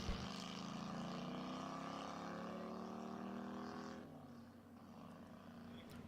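Ford Roadster race car with a 1946 flathead V8 accelerating on a dry-lakebed course at El Mirage: a faint, distant droning engine note whose pitch climbs steadily, then drops back as it shifts, continuing under open-air ambience.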